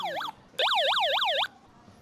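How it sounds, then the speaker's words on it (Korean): A hand-crank emergency radio sounds its built-in siren, giving a loud, close electronic wail that rises and falls quickly. A brief burst comes first, then a longer stretch of about a second, with short pauses between. "그리고 구조를 요청할 때 사이렌도 켤 수 있고요."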